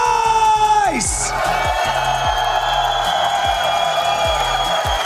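Live crowd at an Apex Legends esports tournament day roars and whoops loudly and continuously, a dense wash of cheering filling the arena for several seconds after a descending tone.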